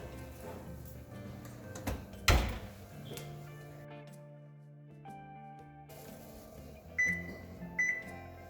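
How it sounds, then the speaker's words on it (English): A banana bread pan goes into a kitchen oven with a single sharp clunk, followed by quiet rattles, soft taps and faint appliance tones in a hushed room. "I'm just gonna pop this into the oven"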